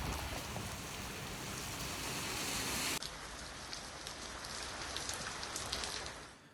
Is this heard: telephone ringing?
no